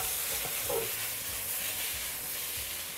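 Carrots stirred into a braising tofu pot in a restaurant-style Chinese kitchen, giving a steady sizzle with soft scraping stir strokes throughout and no talking.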